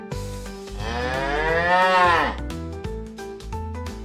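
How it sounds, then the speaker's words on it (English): A cow gives one long, loud, rising-and-falling moo lasting about two seconds, close to the listener, over light background music. "Cow."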